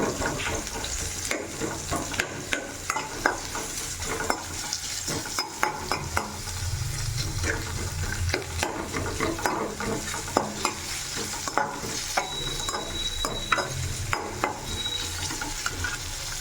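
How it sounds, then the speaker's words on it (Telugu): Onions fry in a pan for carrot fry, a continuous close sizzle broken by frequent scraping and tapping of a spatula as they're stirred, steady throughout with no talk. "వీటిని ఇప్పుడు బాగా ఫ్రై చేసుకోవాలి"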